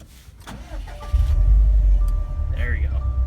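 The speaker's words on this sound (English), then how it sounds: "I'm going to just try starting up the car." A 2015 Subaru STi fired up with its push-start button: brief starter whir and chimes, then the engine catches with a loud burst and settles into a steady, throbbing idle close by.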